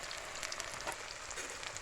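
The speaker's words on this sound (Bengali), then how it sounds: "পেঁয়াজ আর রসুনটাকে একসাথে একটু ভেজে নেবে" Onion and garlic fry in a pan for a duck curry, giving a soft, steady sizzle and hiss that stays faint and even for about two seconds.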